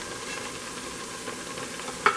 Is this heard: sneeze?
no